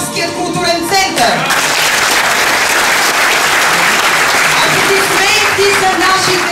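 An audience at an evening exhibition and film screening applauds, a dense, steady wall of clapping that stays loud and close throughout, with a few voices mixed into the crowd noise.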